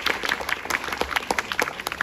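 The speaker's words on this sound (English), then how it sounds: "let's give them a warm round of applause" A small audience claps for models at a library fashion show fundraiser at Queen Emma's Summer Palace, sparse distinct claps from a modest group at a fairly soft level.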